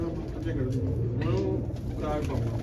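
A female pigeon coos close by, in a loft of large pigeons, her soft throaty calls repeating under steady male chatter.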